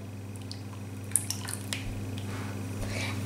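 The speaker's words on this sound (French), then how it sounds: "Je prends un deuxième pot de yaourt qu'on a rempli avec du beurre et de l'huile." Melted butter and oil poured from a yogurt pot into cake batter for a vanilla chocolate-chip pound cake, giving quiet wet drips and soft squishes over a low steady hum.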